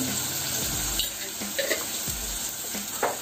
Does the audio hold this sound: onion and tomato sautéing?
yes